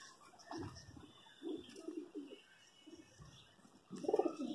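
Pigeons coo in soft, low, throaty bursts of varying loudness at close range, with a fuller cluster of coos toward the end over quiet background hiss.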